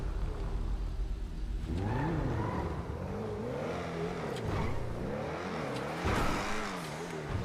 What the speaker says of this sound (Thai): เสียงเครื่องมันลั่นอะไรขนาดนั้นน่ะ